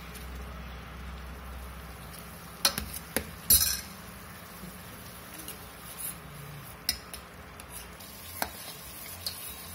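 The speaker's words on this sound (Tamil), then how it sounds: "நீங்கள் நல்லா கலக்கிட்டே இருங்க." Butter melting into homemade ghee sizzles quietly and steadily in a pan, while a metal spoon stirs it with scattered clinks and scrapes against the sides.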